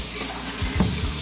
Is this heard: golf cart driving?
no